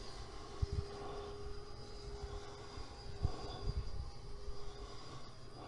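A Freewing Cougar RC model plane flies overhead, its faint, steady motor whine drifting at a distance over continuous outdoor wind rumble and handling noise, with no talk.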